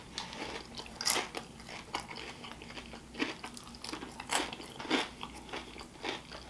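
Biting into and chewing shepherd's pizza with a crunchy crust, several sharp crunchy bites spaced a second or so apart between softer chewing, close and loud.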